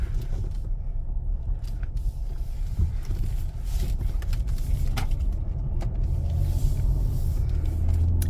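A car driving along a road, heard from inside as a steady low rumble with road and wind noise, loud and continuous with a few faint bumps.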